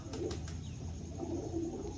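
Two pigeons perched on a loft canopy, soft low cooing repeated a few times, faint and close against quiet background hiss.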